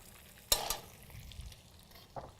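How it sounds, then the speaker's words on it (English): Vegetables with cilantro stirred in a cooking pan, a sharp clatter of the spoon against the pan followed by soft shuffling and a light sizzle, close and without talk. "Give this a quick stir."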